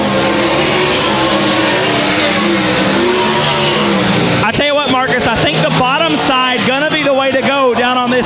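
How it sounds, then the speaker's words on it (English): Race cars blast down the front stretch at Cotton Bowl Speedway, a loud, dense engine roar filling the first half before an announcer's voice takes over above the continuing drone of the field. "The car gets a good bite off the bottom of turn 4 and just shoots down the front stretch"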